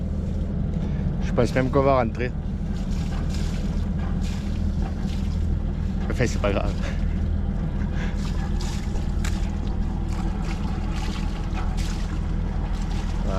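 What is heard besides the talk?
boat motor running on a lake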